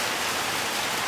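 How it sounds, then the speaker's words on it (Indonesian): Rain falls during an outdoor Ascension Day church service, a brief, steady, even hiss of dense drops with no voices. "hujan tidak menjadi penghalang bagi kita untuk menikmati persekutuan ibadah hari raya kenaikan Tuhan Yesus ke surga"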